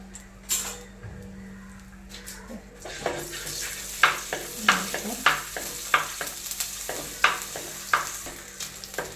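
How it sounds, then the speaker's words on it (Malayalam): Ginger and garlic sauté in a pan, a quiet sizzle at first, then a steady sizzle punctuated by sharp, regular clinks and scrapes of a utensil stirring against the metal. "ഇഞ്ചി, വെളുത്തുള്ളി ഒന്നിട്ടിട്ട് ഒന്ന് വഴറ്റി കൊടുക്കാം"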